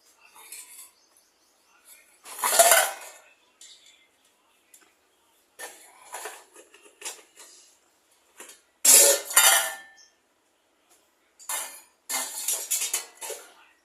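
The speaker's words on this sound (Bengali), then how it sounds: "এই যে থালাও ধুচ্ছে বাবালে।" Metal plates and utensils clink and scrape in short irregular bursts as a plate is washed by hand in a home, with quiet gaps between the clatter.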